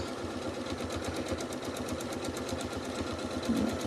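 A sewing machine running steadily for free-motion quilting, its needle chattering in a fast, even rhythm close by without pause, with no talking.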